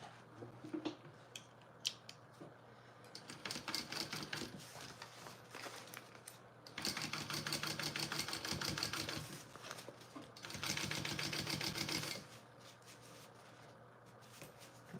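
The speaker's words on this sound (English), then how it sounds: "I'm going to top stitch along on the lining part of it." A sewing machine top-stitches along a lining, running in two long steady bursts with rapid mechanical ticking, separated by quieter clicks and handling sounds, close by without talk.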